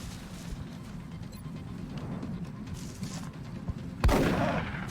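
A pistol fires in a tactical shooter game, one loud sharp report cracking out near the end over a steady low rumble of gameplay ambience.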